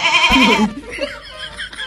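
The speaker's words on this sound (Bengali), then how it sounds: "ওই ছাগলটা বাঁধা রয়েছে, বিক্রি করবেন না?" A tethered goat lets out one loud, quavering bleat up close, then people talk.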